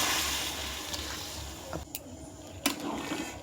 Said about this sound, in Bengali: জলটা অ্যাড করে দিচ্ছি